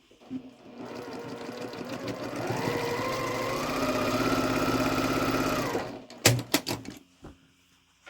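A sewing machine stitches Halloween quilt pieces with a quarter-inch seam in a steady, continuous run lasting several seconds, its motor rising slightly in pitch mid-run before stopping, followed by a few sharp clicks and handling taps.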